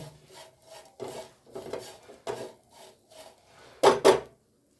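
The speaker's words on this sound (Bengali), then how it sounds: "এবারে আমি বড়াগুলোকে সুন্দর করে প্লেটে তুলে নিচ্ছি" Fried drumstick flower fritters are scraped up and lifted onto a plate, giving a series of short, dry rasping scrapes in an uneven rhythm. The last two scrapes come close together and sound louder and sharper.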